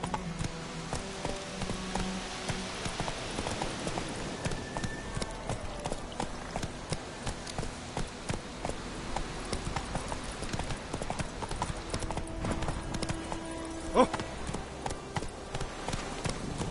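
Roach, the horse in Witcher 3: Wild Hunt, galloping: a rapid, continuous drumming of hoofbeats over the game's ambient soundscape, steady and moderately loud throughout, with one sharper hit near the end.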